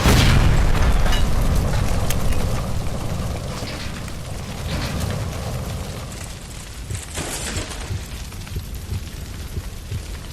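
A gas line blows up inside a house in L.A. Noire, a heavy roaring explosion already at full force that slowly decays into rumbling debris and crackling fire, with no talking.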